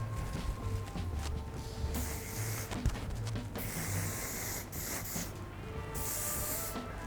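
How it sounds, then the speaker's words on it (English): Hairspray mists onto hair in short hissing bursts, several spaced sprays at close range over quiet handling noise, no talk. "So before I tong, I always like to prep the hair with hairspray"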